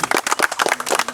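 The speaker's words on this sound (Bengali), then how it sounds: "কারণ সবাই হাততালি দেবে।" A group claps hands together at a quiz session, a quick burst of many overlapping claps, close and fairly loud, with no talk over it.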